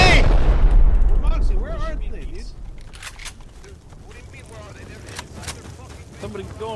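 Gunfire in the survival game Rust, a loud blast at the start trailing into scattered shots and crackling bursts, with excited voices talking over the noise.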